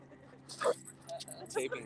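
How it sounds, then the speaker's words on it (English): Dogs bark and yip in a few brief bursts, one near and one farther off, during a quiet vinyasa yoga class. "As the dogs bark, you can start to bring your awareness back to your breath."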